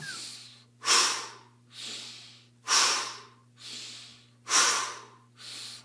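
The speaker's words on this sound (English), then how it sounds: "Lots of strong exhales." Strong, forceful breathing exhales during a guided breathing exercise, about six loud breathy bursts in a steady rhythm, every other one stronger, close and alone.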